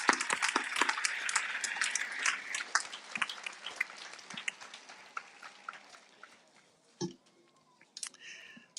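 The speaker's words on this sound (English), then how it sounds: "Let's give them a round of applause." Graduation audience applauding at a 2022 ceremony, a dense wash of clapping that starts strong, thins out and fades over several seconds, with a few scattered claps and a brief louder burst near the end.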